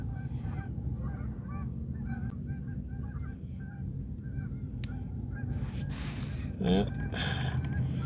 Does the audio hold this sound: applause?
no